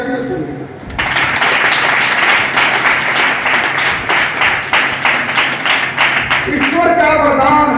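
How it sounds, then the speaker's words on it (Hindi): An audience at a poetry recitation in a yoga ashram in Bhiwani breaks into loud, sustained clapping, dense rhythmic applause lasting several seconds before easing off. "ताजा तालियां बजा दीजिए"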